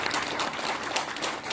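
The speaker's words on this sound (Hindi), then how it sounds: "तालियों से इनका स्वागत करें।" An audience at an Osho meditation camp in Kolkata claps to welcome a guest, a dense, continuous round of applause that stays fairly loud for the whole stretch.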